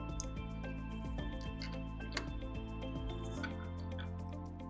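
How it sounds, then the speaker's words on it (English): Solvent trickles and drips through a funnel into a distillation flask in a lab, faint liquid sounds with small clicks under steady background music. "Let us now transfer the solvents with the help of a funnel."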